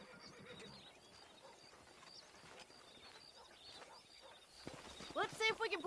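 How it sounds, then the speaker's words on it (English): Horses in the video game Red Dead Redemption: faint hoofbeats and ambient sounds give way to a sharp, close whinny near the end, with a few louder thumps alongside. "That ranch hand said there's a pack of wild horses nearby."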